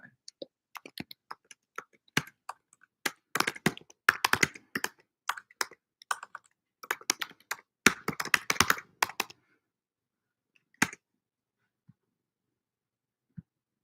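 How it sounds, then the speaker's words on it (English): Close, irregular computer keyboard typing into a chat box during a class session, in quick bursts of clicks and taps, trailing off into silence with a few stray keystrokes. "Just typing that in there real quick to the chat box."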